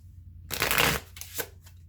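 Spirit Love Oracle cards being shuffled during a tarot-style reading: a single close riffle of cards, a quick papery rush lasting about half a second followed by a softer flick, with no talking.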